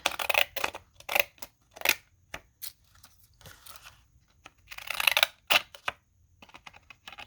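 Scissors snip through a paper junk-mail envelope being made into a journal pocket, a quiet run of separate crisp cuts and rustles with uneven pauses between them.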